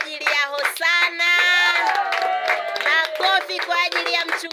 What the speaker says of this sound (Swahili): Makofi kwa ajili ya aliyetoa.